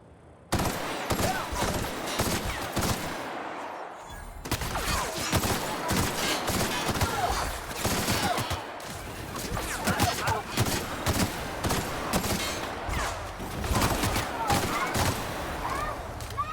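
Dense bursts of video game gunfire rattle almost without pause, with rapid automatic volleys and heavy impacts layered loudly over one another, and a voice speaking in the mix.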